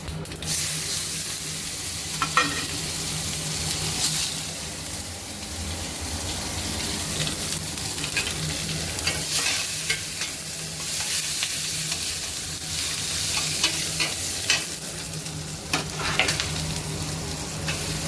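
Mustard seeds, cumin, sesame and asafoetida sizzle and crackle in hot oil for a tempering, a loud steady frying hiss with scattered pops and stirring scrapes, close and continuous with no talk.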